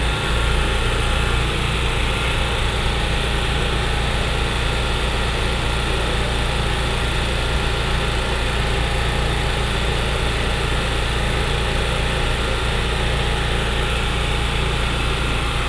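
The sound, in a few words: running generator engine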